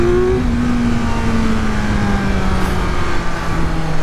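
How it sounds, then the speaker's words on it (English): Kawasaki Z900 inline-four motorcycle engine holding a steady, loud rev around mid RPM in second gear, a continuous droning tone that slowly sags in pitch, with no talk. "I do love the sound this inline 4 makes."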